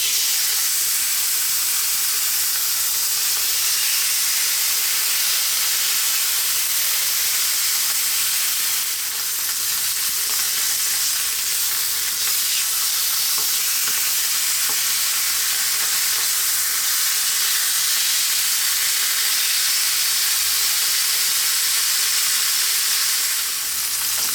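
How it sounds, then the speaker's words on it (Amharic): Loud, constant sizzling of meat searing in a very hot pan, a steady hiss that continues without pause. "ይኸውላችሁ እየተጠበሰ ነው ስቴክ"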